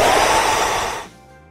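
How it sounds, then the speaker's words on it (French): A hair dryer blows with a steady, loud whoosh of air while curling eyelashes, then switches off abruptly, leaving a faint hum behind. "Je reprends mon sèche-cheveux vite avant que ça sèche."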